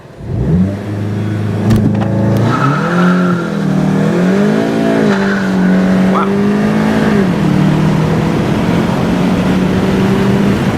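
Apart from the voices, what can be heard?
car launch with tires spinning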